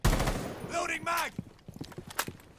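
Rapid gunfire in a shooting video game, several sharp bursts of shots amid game sounds, with people talking over it.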